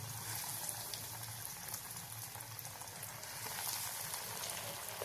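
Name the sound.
potato pieces frying in hot oil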